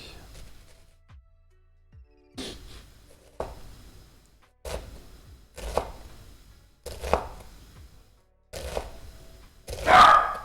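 A knife minces food on a cutting board in a run of quick, close chopping bursts separated by short pauses. The final burst is the loudest.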